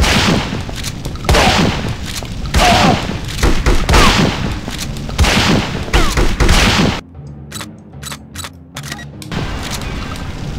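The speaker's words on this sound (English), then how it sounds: "shotgun! Die already!" Shotgun blasts from the From Russia With Love video game, loud repeated bursts packed densely for several seconds, then a sparser run of sharp individual shots near the end.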